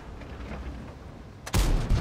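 A tank cannon shot in the World of Tanks game, a sudden loud boom with a sharp crack arriving late, preceded by a low rumbling engine and battle ambience, with a second thump trailing just after.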